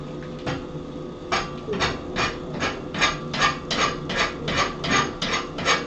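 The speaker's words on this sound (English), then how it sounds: "just rasp that little lip down that got pushed up." A hand rasp files a raised metal lip down on a blacksmith's nail header in a rhythmic series of about a dozen gritty scraping strokes, close and distinct, with no voices.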